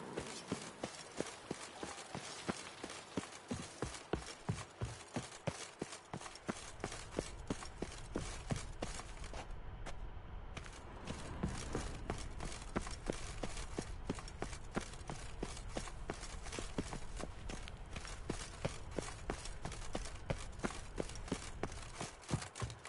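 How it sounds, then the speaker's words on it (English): Horse galloping in The Witcher 3, a steady rapid run of hoofbeats carried on for the whole stretch, close and loud, with a short lull near the middle before the pounding rhythm resumes. "Even a horse drops if you ride it at a constant gallop."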